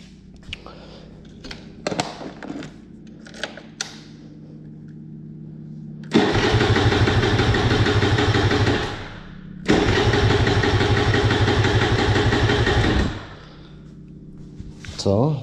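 A kick-started engine catches after a few short tries, then runs loud and steady in two long idling bursts separated by a brief drop, with people talking around it.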